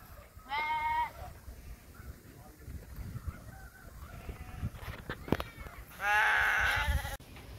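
Two loud, wavering goat bleats, one early and a longer one near the end, with quieter farmyard rustling and faint voices between.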